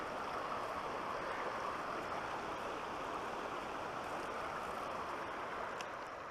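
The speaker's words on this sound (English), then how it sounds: "The gentle noise of the river." A gentle river flows steadily close by near a remote backcountry campsite on the hike to Pinto Lake, its broad, even rush of water holding constant and unbroken throughout.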